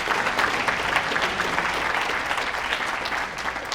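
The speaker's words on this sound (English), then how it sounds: "Let's give them a round of applause." Sustained applause fills the room at a political Senate candidate forum as party chairs are recognised, with the clapping dense and fairly close, then easing slightly near the end.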